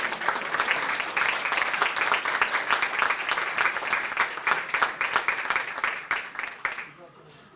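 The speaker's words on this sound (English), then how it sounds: "Give her a round of applause as she steps forward." An audience at a business recognition breakfast applauds an award recipient, sustained dense clapping from a roomful of people that tapers off near the end.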